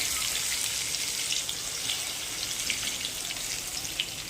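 Finely chopped garlic and cumin sizzle in hot oil, with asafoetida added, for a home-style dal tadka. A steady, close crackling hiss carries through the whole clip with no talking.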